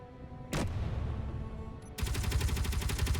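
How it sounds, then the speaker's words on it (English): Gatling guns in Space Engineers pour fire into a frigate: a sharp blast, then a rapid, steady stream of loud mechanical shots hammering away in quick succession. "those Gatling guns just cause so much damage to this poor frigate"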